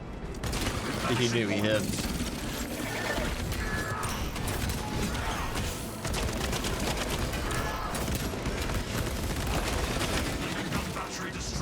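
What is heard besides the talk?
tarantula sentry gun firing in Space Marine 2 video game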